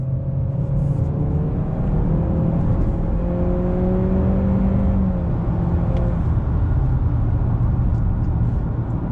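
A 2021 Honda Accord sedan's engine accelerating under throttle from inside the cabin, a steady loud drone with rising harmonic tones and continuous road rumble, no talking.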